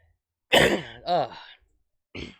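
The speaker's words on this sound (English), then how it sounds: "I'm trying not to cough." One harsh, close cough followed by a throaty clearing sound, then a short pause and another brief cough.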